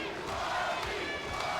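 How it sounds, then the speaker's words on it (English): A boxing crowd at a championship fight in Barrie, Ontario chants a fighter's name in a rhythmic, repeated beat. The massed voices sound fairly distant and fill the whole arena. "Crowd starts to chant the name of Marvelous Mark Smither."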